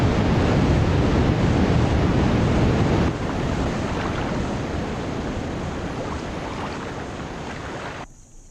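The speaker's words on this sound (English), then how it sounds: "These falls hold no records for height or volume, but for sheer violence," Violent river waterfall crashing with a dense, loud, continuous roar that eases slightly partway through and drops off sharply at the end.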